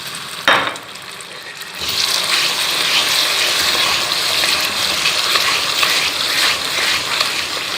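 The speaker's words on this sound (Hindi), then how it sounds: "थोड़ा सा हमने इसमें पानी ऐड करना है।" Water poured into a hot pan of ghee and sugar while making zarda rice, a sudden sizzling hiss that settles into a continuous loud crackling bubble.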